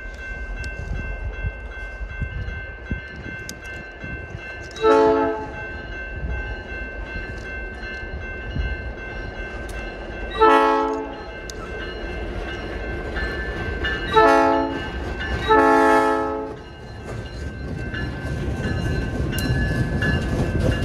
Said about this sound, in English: Multiple trains moving here, 1750 coming across, and they're also moving the road power.